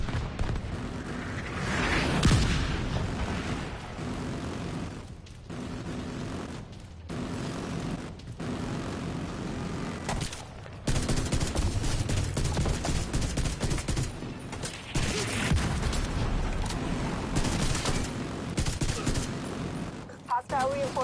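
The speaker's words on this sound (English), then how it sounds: "The autocannon seems to be firing blind." An autocannon fires steadily in The Division 2, heavy bursts of rapid rounds that roll on and off for about twenty seconds, loud and near, among explosions and other game combat noise.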